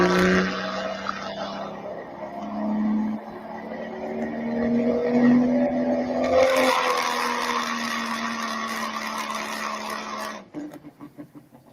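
A pulling vehicle's engine revs hard through a pull, a sustained rising drone with gritty texture that climbs and holds, then cuts off abruptly into sputtering bursts, heard from a distance.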